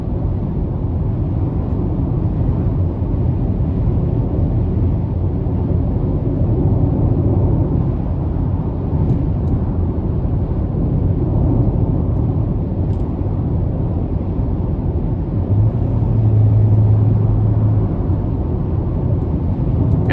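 A 2022 GMC Terrain SLT with the 1.5-liter turbo and front-wheel drive cruises down an interstate, its cabin filled with a steady low road and engine rumble, smooth and unbroken with no talk.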